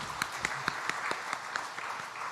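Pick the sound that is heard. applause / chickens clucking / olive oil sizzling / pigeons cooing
applause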